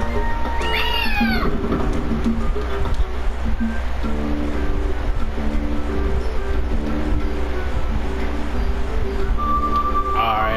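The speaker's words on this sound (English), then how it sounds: "Okay, the cat is over there." Cat meowing in Naruto Ultimate Ninja Storm, a cluster of rising meows early on, over constant game music and ambient noise, with a voice talking over it.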